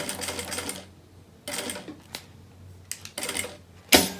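Sewing machine stitching through a silicone beach bag and doing a backstitch, heard as separate short bursts of rapid mechanical stitching with pauses between them, ending in one loud burst.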